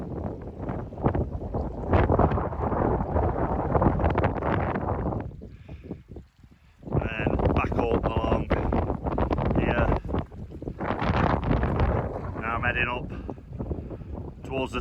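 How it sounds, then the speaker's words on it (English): Heavy wind on Ben Nevis buffeting a microphone, a loud continuous low rumble with gusts, nearly drowning out a person shouting speech in bursts. "You might not hear me because of the wind."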